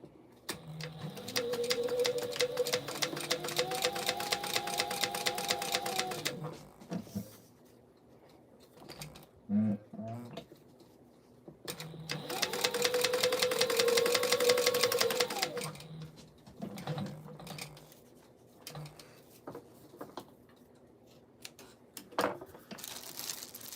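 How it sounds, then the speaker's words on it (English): A sewing machine top stitches down both sides of folded fabric strips, prepping items for craft fairs, running in two long, steady bursts of rapid stitching separated by quiet handling of the fabric, with no talk. "then top stitching it down both sides"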